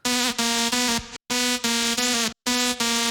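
A bright, buzzy synth note in FL Studio with pitch automation that makes it wobble slightly at the tail, repeated in loud sustained hits separated by short silent breaks, with no voices.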